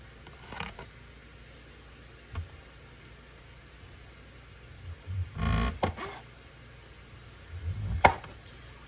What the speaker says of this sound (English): And so I'm chopping these really thin